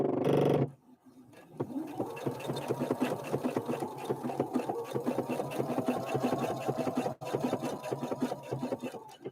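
A Husqvarna Viking Opal 650 sewing machine stitches with a rapid, even mechanical chatter, close and loud, after a brief opening noise, pausing once briefly before running on.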